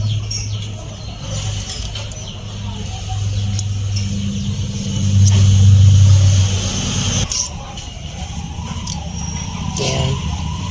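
A Toyota Corolla engine runs close by during a tune-up, its exhaust note rising into a louder rev in the middle before settling back to idle, with faint bird calls in the background.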